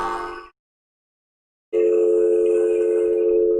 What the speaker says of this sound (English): I know you guys hear that funky dial tone.